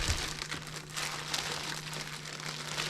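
Breathable bread bags are handled, giving soft, continuous crinkling and rustling close by at low volume, with no talk.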